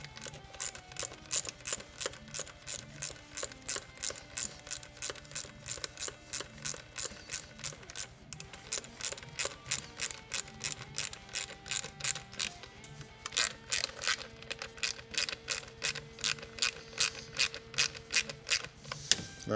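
A ratchet tightens a fitting while a Perrin oil cooler is fitted to a car engine, giving a steady run of close, rapid clicking strokes that keeps going through the whole clip with only brief pauses.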